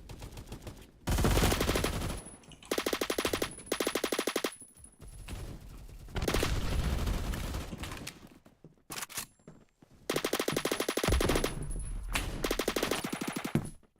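Automatic gunfire rattles in long rapid bursts with brief gaps between them, loud and close, from a hip-fired gun in a Roblox shooter game.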